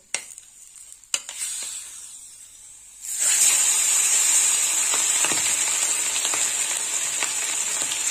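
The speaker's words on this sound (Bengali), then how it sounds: "এবার আমি বাকি মাছগুলো ভেজে নেবো।" Pieces of rohu fish frying in oil for fish kalia, a quiet start then a loud sustained hissing sizzle that swells in and holds steady, with faint crackles throughout.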